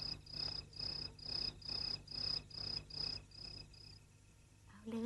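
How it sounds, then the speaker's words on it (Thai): A field cricket sings in a regular train of short chirp pulses, about two per second, fairly close but soft, fading out near the end with a brief low sound; no voices. "เอ๊ยนั่นจิ้งหรีดทุ่งนี่นะ"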